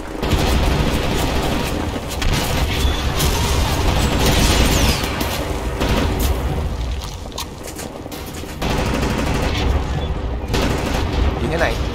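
Heavy cover gunfire and booming combat in Wolfenstein The New Order, loud and continuous with explosive thuds and bursts, briefly easing before resuming, under occasional game voices.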